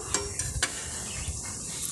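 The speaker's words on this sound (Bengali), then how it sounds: "দুই সাইড আমি লাল করে ভালো করে ভেজে নেব" Potato chops flip and fry in hot oil, giving a steady close sizzle with a few sharp clinks and stirring scrapes near the start.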